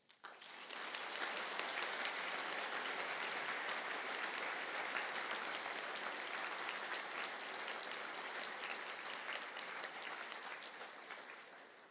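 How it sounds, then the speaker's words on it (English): A graduation conferring audience applauds heritage studies graduates as they stand, a dense, even wash of clapping that swells within the first second, holds steady for about ten seconds and tapers slightly at the end, fairly soft and diffuse. "to please stand for applause"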